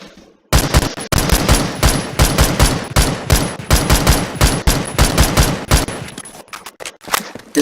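Rapid semi-automatic Mark 11 DMR gunfire in the Phantom Forces video game, a long string of loud sharp shots in uneven bursts following a brief quiet start.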